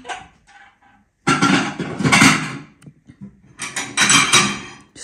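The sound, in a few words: plates being cleared, dishes clattering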